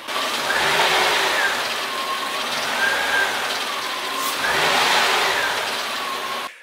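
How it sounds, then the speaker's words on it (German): Mercedes CL 500 V8 engine revving up and falling back in repeated throttle blips, close and loud, the pitch rising and dropping in several waves over a steady engine drone. "Ich gebe mal ein bisschen Gas, hör dir das mal an."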